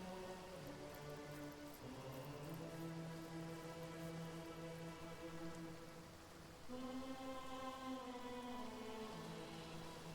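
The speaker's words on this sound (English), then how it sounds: "Oh boy, rain." Steady rain falls in the fantasy role-playing game Divinity: Original Sin, a constant soft hiss under a sustained musical drone with no talking.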